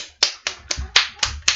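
A few hands clap six times in a quick, slightly uneven rhythm, sharp and close, in a short burst of applause at a Korean university student talk.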